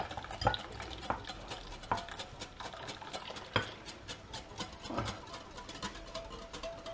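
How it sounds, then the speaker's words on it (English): A milk and cream mixture being stirred into custard for a bread and butter pudding, with quiet, steady scraping and light clinks of a utensil against a bowl, repeating in an uneven rhythm. "So now we add our milk and cream mixture to our custard."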